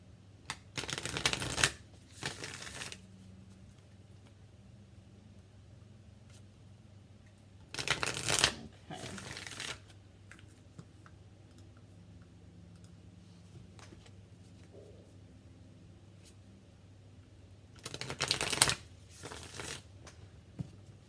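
Three bursts of a Modern Love Tarot deck being shuffled, each riffle lasting a second or two, separated by long quiet stretches with a low steady hum.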